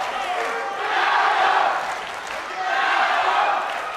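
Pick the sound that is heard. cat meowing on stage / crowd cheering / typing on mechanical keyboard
crowd cheering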